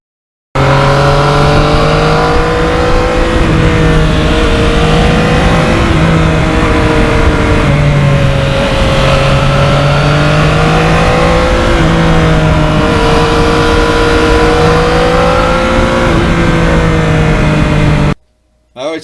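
A 2020 Yamaha MT-09 motorcycle rides steadily along a road, its engine droning loud and close with small rises and dips in revs, alone and without talk until it cuts off near the end.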